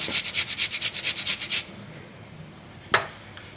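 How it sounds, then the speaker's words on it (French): Peeled ginger is grated on a small mini grater in a quick, rhythmic series of about a dozen rasping strokes, close and crisp, followed by quiet and a single light knock. "là je vais râper avec ma mini râpe trop pratique"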